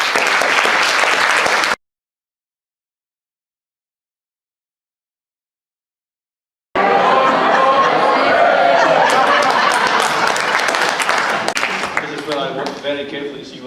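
Big warm applause from the audience at a charity variety show for a young singer: loud dense clapping with crowd chatter and chuckles, broken by a stretch of silence, then resuming and slowly fading.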